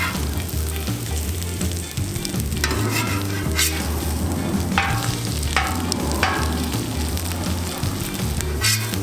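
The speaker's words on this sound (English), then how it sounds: "We're gonna put some corned beef hash right on here. Hash browns, oh yeah." Corned beef hash and hash browns fry on a Camp Chef griddle, a steady loud sizzle with scraping spatula strokes and occasional clacks, up close and without talk.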